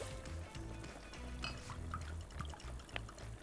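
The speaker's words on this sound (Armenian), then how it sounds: "2 բաժակ բրինցին ավելացնում ենք 4 բաժակ ջուր" Water is poured into a pot holding rice and green beans, a soft liquid trickle with a few faint clinks, close by and quiet.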